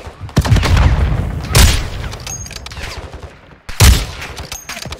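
Loud bursts of gunfire in the shooter game DMZ, with a few heavy volleys and booms that strike at intervals, each followed by a decaying rumble.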